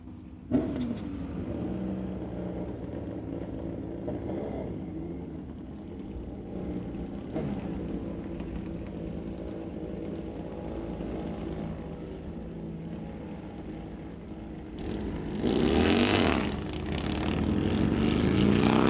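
A 2005 Suzuki drag racing motorcycle makes a pass at a test-and-tune session, its engine a steady distant drone that swells louder near the end, with no talk over it.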